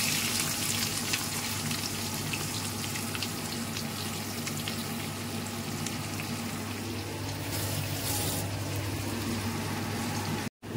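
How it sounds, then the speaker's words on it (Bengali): Onion fries in hot oil seasoned with bay leaf and garam masala, a loud, continuous close sizzle with a steady crackling hiss that holds evenly throughout, with no talking. "এরপর আমি পেঁয়াজটা ছেড়ে দিচ্ছি।"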